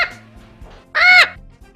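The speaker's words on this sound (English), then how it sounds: "Oh, there is a parrot too." A parrot gives one short, harsh, squawking call in the middle, loud and close, with faint softer sounds before and after.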